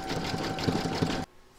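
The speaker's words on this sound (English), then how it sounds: "Now I'm going to put that into your machine and stitch round to number 18." A sewing machine stitches round a large reindeer appliqué in a quick, steady run of rapid needle clatter, close and clear, stopping abruptly after about a second.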